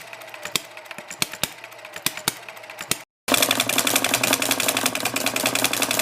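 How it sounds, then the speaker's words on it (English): A Herb Bedell model hit-and-miss wobbler engine with homemade castings runs close by, first firing in sharp, evenly spaced single bangs, then after a brief gap settling into a dense, rapid mechanical clatter. "This is a Herb Bedell engine."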